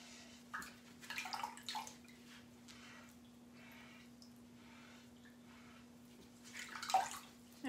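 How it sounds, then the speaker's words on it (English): Chalk stencils are rinsed in a pan of water, giving soft intermittent sloshes and splashes in a few short bursts over a quiet room with a faint steady hum. "I'm gonna wash this in my pan of water over here."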